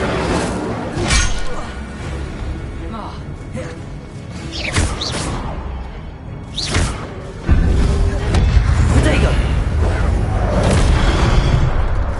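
The Incendio fire spell cast in the video game Hogwarts Legacy, loud whooshing bursts and thuds amid combat effects, then a heavy, sustained roaring blaze that swells and holds.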